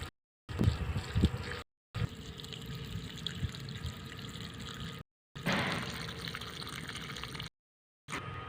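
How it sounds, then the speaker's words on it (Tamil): Water pours onto garden soil outdoors to prepare the ground before seeds are sown, a steady splashing wash broken into several bursts with short silent pauses between them, close by and moderately loud. "ஸோ போட்டுக்கிறோம் தண்ணி போட்டுன்னே இருக்கோம்"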